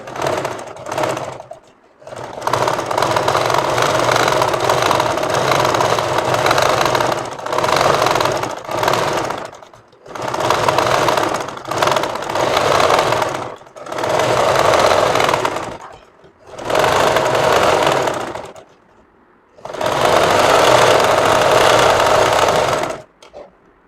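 A sewing machine stitches a kameez in six loud, close runs of rapid stitching, each lasting a few seconds and separated by short pauses, with no talking.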